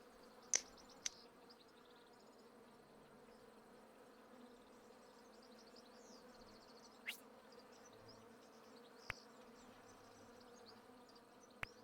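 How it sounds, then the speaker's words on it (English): Bees buzz in the video game Hive Time as a soft, steady insect hum, with a few sharp clicks scattered through it and no talking. "Bee activity."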